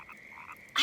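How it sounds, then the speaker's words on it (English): Cartoon frogs croak in a pond scene, a couple of soft rhythmic calls over quiet background, ending in a brief louder burst. "Can you hear all those frogs?"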